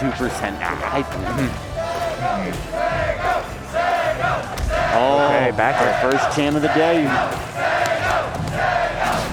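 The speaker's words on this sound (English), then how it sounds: "Yeah, the crowd going off for Sego, and a little bit of energy going his way." A crowd roars and cheers at a Rivals of Aether tournament, loud and sustained, with excited shouts rising and falling under a commentator's voice.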